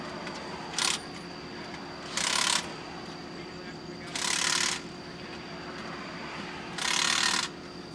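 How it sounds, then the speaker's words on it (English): A ratchet wrench tightens a bolt on a water main fitting during a tie-in, four short bursts of rapid clicking over a steady background hum from nearby machinery. "Tighten that top bolt there, Zeus."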